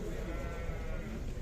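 A five-month-old lamb bleats at the Arashan sheep bazaar in Sokuluk, a close, steady call that fills the short moment against a busy market background.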